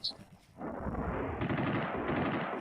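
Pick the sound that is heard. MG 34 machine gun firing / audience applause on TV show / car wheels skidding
MG 34 machine gun firing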